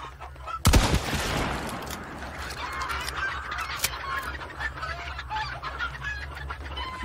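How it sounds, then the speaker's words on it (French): Chickens in the Hunt Showdown video game on Xbox One X, clucking and squawking nearby in a flurry, with a sharp loud burst early on, then scattered clucks over a steady low rumbling ambience. "Vous voyez les poules là, je calme les poules."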